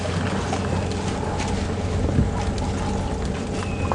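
A safari vehicle engine runs loudly and steadily at a game reserve, a constant rumbling drone with wind buffeting the microphone.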